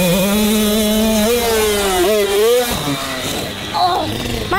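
A supercross dirt bike engine revs and drones steadily up close, pitch wavering as the throttle rises and falls, with a voice speaking briefly over the engine noise.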